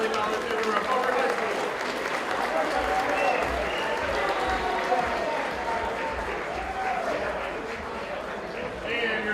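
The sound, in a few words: audience applause at esports awards ceremony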